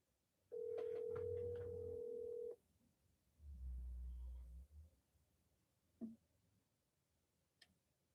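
A telephone ringing while waiting for someone to pick up: one long steady tone followed by lower, muffled bursts and a few faint clicks, with no voice.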